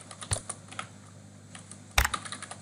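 Typing on a computer keyboard while building an accounting spreadsheet in Google Sheets, scattered close key clicks with a louder cluster of strokes partway through, no talking.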